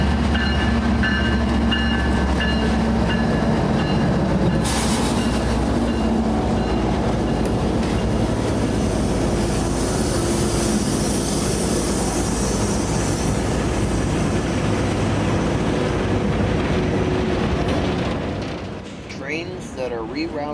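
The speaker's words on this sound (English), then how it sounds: "3 General Electric GEVO locomotives led this tiny train today." A CSX freight train of empty rock hoppers, led by three General Electric GEVO locomotives, rumbles past loud and close in Plant City, Florida, with continuous wheel and car noise and a brief squeal, fading away at the end.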